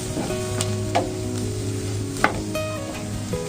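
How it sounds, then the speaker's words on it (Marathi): Spiced dried shrimp being stirred in a pan with chili powder, turmeric and garam masala, giving a steady close sizzle of frying with a few sharp scraping stirs. "सगळं व्यवस्थित मिक्स करून घेते"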